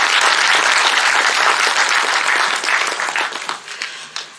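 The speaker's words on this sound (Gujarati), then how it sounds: "એકવાર ફરીથી જોરદાર તાળીઓના ગડગડાટ સાથે રૂપાલા સાહેબને વધારે" Audience at a literary reading event applauding a speaker, a dense, loud wash of many hands clapping that thins out and fades over the last second into scattered claps.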